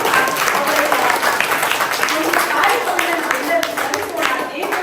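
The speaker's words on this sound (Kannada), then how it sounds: "ಅವರಿಗೆ ಜೋರಾಗಿ ಚಪ್ಪಾಳೆ ತಟ್ಟುವುದನ್ನು" An audience at a Vachana Gramam event in Mudalapura applauds Shivaprasad loudly, a dense, steady burst of clapping that fills the whole stretch.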